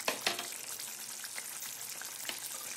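Elephant foot yam masala bhaji frying in a pan on low heat, a steady soft sizzle with a few sharper pops and crackles, close and alone with no voices.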